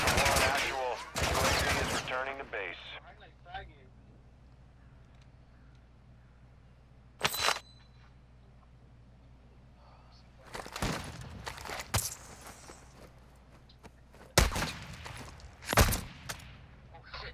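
Bursts of video game gunfire crackle in short loud volleys, near the start and again scattered through the later half, with quieter stretches between and voices talking over parts of it.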